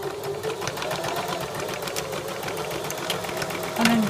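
A sewing machine runs steadily, stitching across the top of a vent pleat in a garment, with a continuous mechanical whir and rapid needle rhythm held throughout, followed by a brief higher whine near the end.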